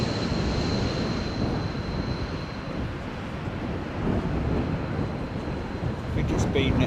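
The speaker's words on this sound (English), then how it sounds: "Gear coming down. Another 220." Airbus A220 landing in gusty 34 mph crosswind, a continuous loud jet roar mixed with rumbling wind buffeting on the microphone, steady throughout with a faint thin whine.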